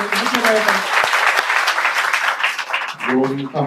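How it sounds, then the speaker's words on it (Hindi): An audience at a Hindu saints' gathering in Paharganj, Delhi claps in loud, dense applause for about three seconds, and a voice speaks at the start and again at the end. "ताली बजाते हो तो जोर से बजाया करो।"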